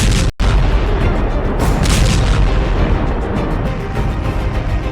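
Missile strikes and explosions during an Iranian attack on Israel, a loud continuous rumbling roar of blasts with one brief cutout near the start, sustained and dense throughout.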